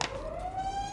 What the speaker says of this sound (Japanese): 高速道路の警備隊のサイレンだね